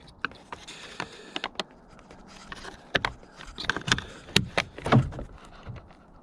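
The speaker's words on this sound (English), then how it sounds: "and I just lock the door." Door of a Ford F-150 pickup truck being locked on a cold winter day, a run of sharp mechanical clicks and clunks from the lock, close by, with no talking.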